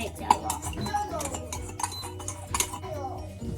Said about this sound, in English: now we're still mixing this up because I didn't mix it a lot